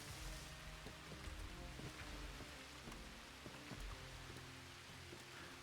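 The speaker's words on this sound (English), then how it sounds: "I was just trying to stay out of the rain." Rain falls steadily in a dense hiss, with scattered drops pattering on nearby surfaces and no voices.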